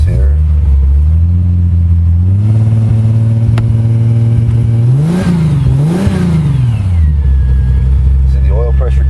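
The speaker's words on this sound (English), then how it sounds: "Car starts right up. It's cold." A Datsun 510 fitted with a VG30 V6 engine starts cold and settles into a steady idle, then revs up twice before dropping back, loud and close while someone talks over it.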